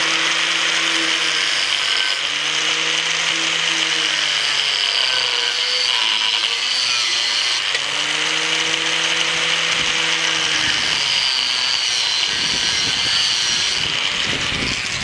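A power tool cuts through metal pipe for making hinges, loud and close, its motor whining in long strokes that rise and dip in pitch with short breaks, ending in rougher grinding, with no talking.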